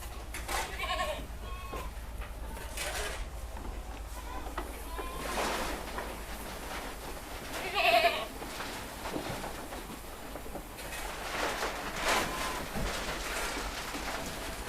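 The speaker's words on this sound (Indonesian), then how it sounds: "jadi kambing-kambing saya proses makan silase untuk menu sore" Goats on a farm bleating while they eat silage for their evening feed, with scattered calls rising over a low steady background and one clearer cry standing out midway.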